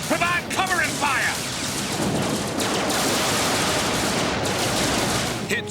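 Heavy gunfire rattles through a space battle in the Exo Squad animated series, a dense, continuous roar of rapid shots and blasts after a brief shouted voice at the start.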